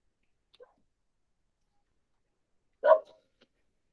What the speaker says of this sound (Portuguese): Tomara que não saia o latido dos meus cachorros na legenda